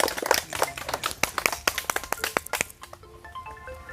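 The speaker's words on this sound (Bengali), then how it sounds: "সবাই একটু হাততালি দিবে হ্যাঁ এই বুনুর জন্য সবাই হাততালি জোরে হাততালি" People clapping for a prize winner at a fuchka eating challenge, a burst of close, uneven handclaps from a small group that thins out and stops after about three seconds.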